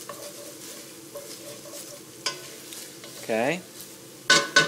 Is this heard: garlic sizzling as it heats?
yes